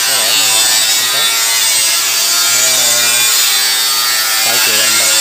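A chamomile tea mixing machine runs in a workshop with a loud, steady broadband roar that fills the whole stretch, while someone talks over it at intervals.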